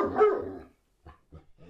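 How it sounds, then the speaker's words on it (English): Excited dog barking as a sound effect for a dog named in a story: one loud close bark or yelp followed by three short softer yips in quick succession, with no talking. "Hagrid's dog, Fang, is excited to see them."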